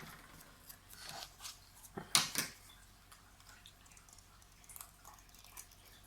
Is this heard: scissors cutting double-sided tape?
yes